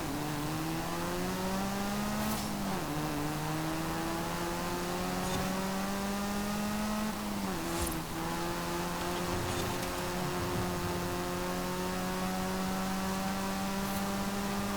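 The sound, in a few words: Hyundai concept car engine racing in Forza Horizon 5 video game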